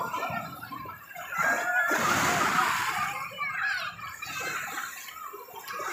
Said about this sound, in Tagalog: Dito na naman kami sa dagat.